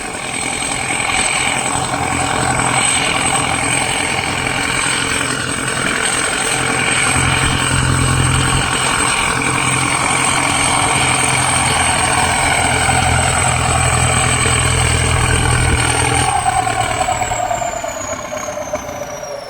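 A Ford 6640 turbo tractor engine running in a sugarcane field during fertilizer work, a loud, steady diesel drone close by throughout, with a constant high whine, briefly dipping near the end as the load changes.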